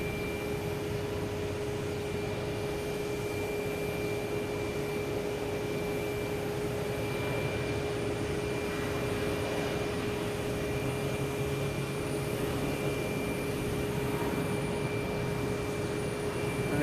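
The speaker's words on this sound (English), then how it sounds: "Next taking off is Delta. A321neo heading to Seattle." Delta Airbus A321neo jet taking off from Boston Logan Airport, a steady broadband engine roar with a sustained whine, loud and continuous throughout with no talk.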